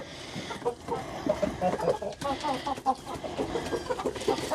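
A flock of chickens clucks steadily and busily while pecking at mealworms and scratch grains, close and continuous, with small scratching noises mixed in.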